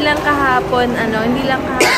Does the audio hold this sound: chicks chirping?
no